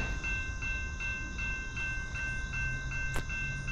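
A CSX or Norfolk Southern freight train rolls past on a Labor Day morning, a steady rumble with rhythmic wheel clicks repeating about every half second and a high squeal, mid-distance and continuous.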